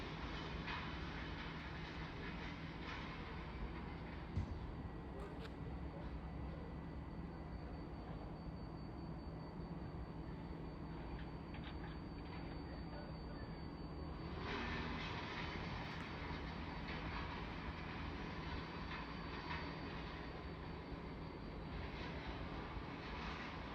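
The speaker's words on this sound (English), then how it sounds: "Soon to arrive in now will be the 1109 Thameslink service from Bedford to Three Bridges." A Thameslink train from Bedford to Three Bridges pulls into South Croydon station on the Brighton Main Line, a steady low rumble and hum of motors and wheels that brightens partway through as it draws closer.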